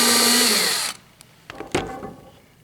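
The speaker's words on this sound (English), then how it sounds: "I'm going to drill myself what we call a pilot" A power drill boring a pilot hole into wood for a screw while building a classic tool box runs loud and steady for about a second, then stops, leaving a few faint knocks and handling sounds.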